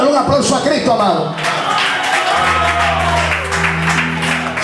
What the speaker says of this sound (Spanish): Dale un aplauso a Cristo, amado.